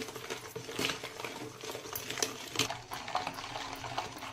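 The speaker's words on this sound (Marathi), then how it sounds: "मी आता हे लोणी अंडी आणि साखर हे चांगलं फेटून घेतलेलं आहे" Butter, eggs and sugar are whisked for sponge cake batter, the whisk scraping and clicking against the bowl in quick uneven strokes, close and fairly quiet.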